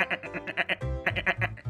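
A voice imitates a goat's bleat: a string of short, wavering, nasal 'meh' bursts delivered close and loud, with a deeper, throatier stretch in the middle, and no other sound.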